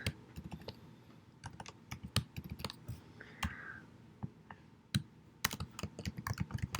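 Typing Java code on a computer keyboard: fast, uneven keystrokes and clicks at close range, fairly quiet, with brief pauses between bursts and no voice.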